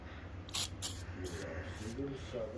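An aerosol can of PB Blaster penetrating lubricant hisses in several short bursts nearby around a tire, two sharp ones followed by softer sprays, with faint talking underneath.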